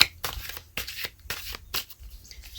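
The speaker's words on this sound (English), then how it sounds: "Shuffle the deck." A tarot deck being shuffled, a series of quick riffling bursts of cards in an uneven rhythm, close and fairly quiet.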